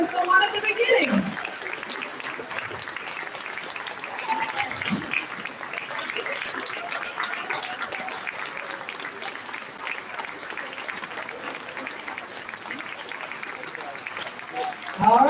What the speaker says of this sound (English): you have to keep the applause going